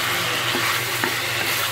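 Lemon chili chicken cooked in a spice-juice masala is stirred and fried over high heat, making a loud, dense, continuous sizzle with faint scrapes of the utensil and no talking.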